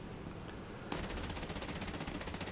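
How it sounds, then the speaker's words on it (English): Aircraft guns fire a sustained rapid burst at a flak gun in the DCS combat flight simulator, starting abruptly after a moment of engine drone and continuing as a dense, even rattle. "Try and walk my shots onto it"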